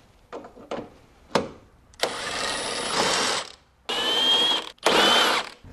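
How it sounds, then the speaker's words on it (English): Ratchet and power tool working the 14 mm strut brace bolts on a Lexus ES350 with a 2GR-FE engine: a few quick clicks, then three long, loud whirring bursts separated by short pauses. "Remove the strut brace. It's held in by two 14 millimeter bolts on either end."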